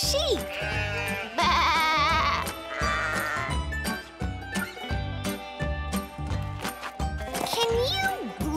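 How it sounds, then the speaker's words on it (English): A goat in an animated children's storybook gives a loud, quavering bleat, followed by shorter bleats. Bouncy background music with a steady pulse plays underneath. "Like a goat? Bleat."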